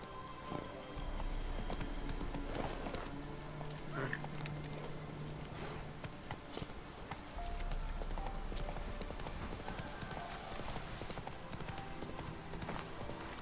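Roach the horse gallops in The Witcher 3, steady clip-clopping hooves drumming throughout at a moderate distance beneath ambient game sound and music.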